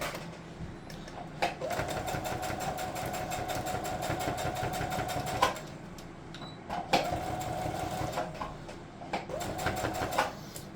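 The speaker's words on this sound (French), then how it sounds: "Tu vas le coudre tout le tour à 1 cm du bord." A sewing machine stitching around the edge of a fabric scrunchie piece, running in rapid, close bursts of mechanical clatter separated by short pauses, moderately quiet.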